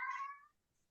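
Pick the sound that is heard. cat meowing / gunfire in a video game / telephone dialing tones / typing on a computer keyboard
cat meowing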